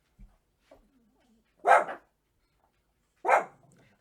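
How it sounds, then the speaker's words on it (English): Two sharp dog barks, spaced well apart, with a few faint small noises between them in an otherwise quiet room. "I just cut out the barking."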